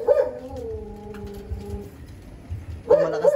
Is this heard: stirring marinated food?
no